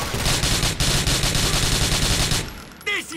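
Rapid automatic gunfire rattles in Grand Theft Auto 4, a dense, loud burst of shots lasting over two seconds that stops abruptly, with a short exchange of voices just afterward.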